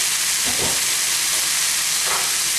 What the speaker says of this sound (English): I'm going to stir these ingredients together